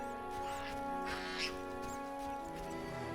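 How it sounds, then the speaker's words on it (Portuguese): Ducks quacking faintly in the video game The Witcher, heard over steady droning game ambience with a few soft, scattered calls. "Vamos matar esses patos aqui?"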